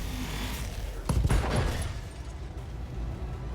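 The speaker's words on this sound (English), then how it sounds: "We can start shooting from here." Mech weapons fire in the Battletech video game, a burst of heavy blasts around the middle of a steady low rumbling game soundscape, no talking.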